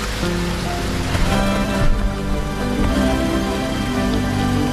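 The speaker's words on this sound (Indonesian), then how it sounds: "Saur melihat hujan turun dengan sangat deras" Heavy rain falls in a steady, dense roar that fills the scene, loud and continuous.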